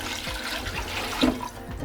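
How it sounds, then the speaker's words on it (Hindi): Water poured into a cooking pot of browned beef trotters for paya, a short splashing gush of liquid that swells briefly near the middle, with no voices. "अब हम इसमें इतना पानी डालेंगे ताकि ये अच्छी तरह जो है गल जाए।"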